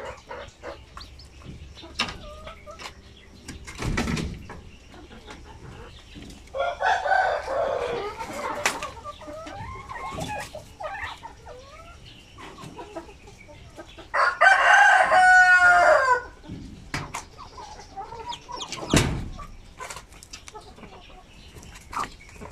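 Pure Sampen native chickens and chicks cluck and peep in a yard while a rooster crows twice, with scattered clucks and bursts between, moderately near.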